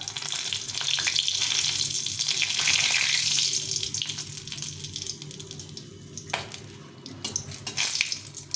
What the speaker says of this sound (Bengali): দিয়ে তেলে শুকনো লঙ্কা দুটো শুকলঙ্কা লঙ্কা ভেজে নেব